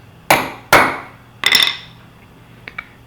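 Two sharp metallic hammer strikes on a round rivet, then a quick cluster of rapid taps, followed by two faint light clinks, close and ringing.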